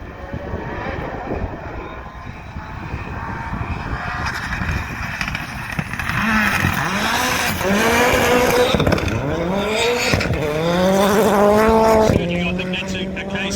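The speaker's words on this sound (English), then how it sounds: "Little Skoda Fabia." A Skoda Fabia AP4 rally car races along a dusty stage, its engine climbing and falling through gear changes and swelling louder as it nears, while a commentator talks throughout.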